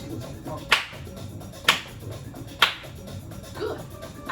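Sharp hand claps mark beat one of a counted exercise rhythm during seated chair interval training, three crisp evenly spaced claps about a second apart over soft background sound, with a fainter fourth near the end.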